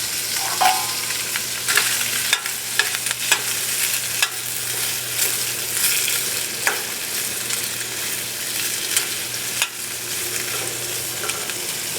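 Food fries in a pan at a quarry campsite, a close steady sizzle broken by scraping stirs and occasional sharp clicks, with no speech.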